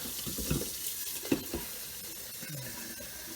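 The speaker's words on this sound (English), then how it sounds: "I'm going to top this up with water, just enough to cover." Tap water running into a pot of low-sodium chicken stock to top it up, a soft continuous hissing pour with faint clinks, fairly quiet and without talk.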